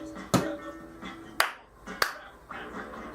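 Three sharp hand claps ring out close by at uneven intervals, with a faint tonal hum between them.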